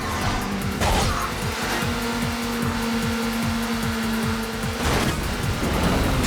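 In the Burnout 3: Takedown racing game, a car engine drones with a steady high tone while rapid rhythmic thumps pulse beneath it, ending in a rough crash-like burst near the end.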